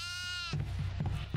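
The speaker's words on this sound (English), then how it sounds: "I hear another goat." A goat bleats in a video game: one sustained, wavering bleat, fairly close and loud, followed by low rumbling thuds and game sounds.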